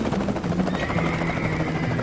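A helicopter flies low and steady, driving wild horses, its rotor chop a loud, continuous thrum with no pauses.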